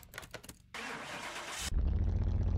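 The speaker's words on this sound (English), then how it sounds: "let's get this V8 started and see what this engine sounds like" A Mercedes-Benz 500E with a twin-turbo V8 cranks in Car Mechanic Simulator 2021: a few short starter clicks, a sustained cranking whir, then the engine catches into a loud, deep rumbling idle.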